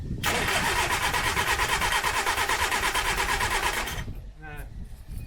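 A 1970s Austin Allegro engine cranking and failing to start, a loud steady rhythmic churn for about four seconds, then it stops and a voice speaks.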